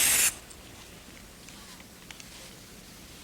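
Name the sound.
oven cleaner being sprayed onto aluminum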